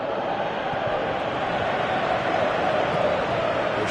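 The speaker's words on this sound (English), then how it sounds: "Crowd appreciates good football all round there." Steady, dense roar of a football stadium crowd in PES 2017, a continuous even wash of massed voices with no distinct peaks, heard on its own throughout.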